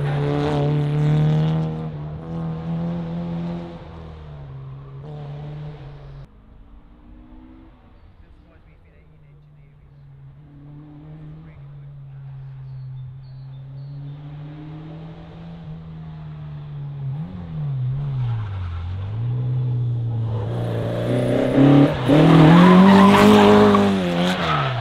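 A 1975 Toyota 1000 KP30 Clubsport fitted with a 1500cc engine taken from a light ace van revs loudly up close, its tone rising and falling through repeated blips and ending in a hard, raspy rev.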